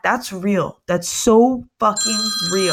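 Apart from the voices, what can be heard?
phone ringing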